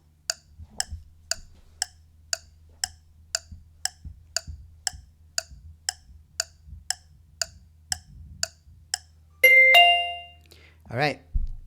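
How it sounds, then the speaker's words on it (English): In an edited quiz video, a clock ticks steadily about sixteen times, then a loud bell sound effect rings near the end, followed by a few short tones. "That bell at the end was really loud."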